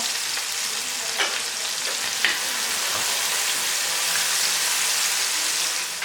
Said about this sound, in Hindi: और यहाँ डालूंगी मैं कड़ी पत्ता, साफ फ्रेश है। डालूंगी हरा धनिया थोड़ा सा